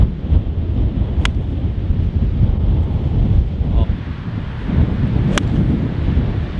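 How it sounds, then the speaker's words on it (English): Strong wind buffets the microphone on a golf course during a par 3 contest, a constant low roaring rumble with gusty swells throughout, and two brief sharp clicks stand out above the blustery noise. "I can't tell you how windy it is"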